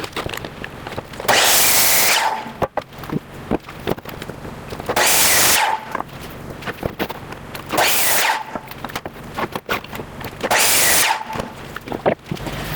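A power saw cuts through boards in four loud, evenly spaced bursts, each a harsh whining roar lasting about a second, with quieter clatter and handling noise between cuts.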